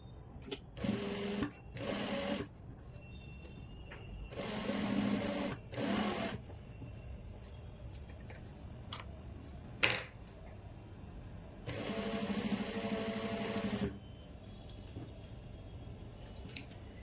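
Sewing machine stitching a piping strip onto a collar neck, running in several short bursts of steady whirring with quiet pauses between and a sharp click midway.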